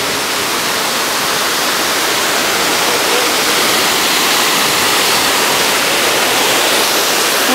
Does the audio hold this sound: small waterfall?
yes